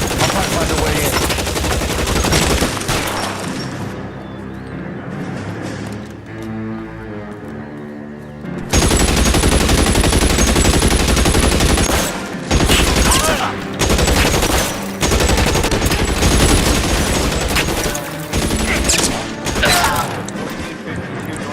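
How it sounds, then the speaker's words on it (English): Loud video-game gunfire in L.A. Noire: dense bursts of rapid automatic shots and crashing impacts fill most of the clip, with a brief quieter lull in the middle before the firing resumes at full intensity. "Shots fired and officers dead."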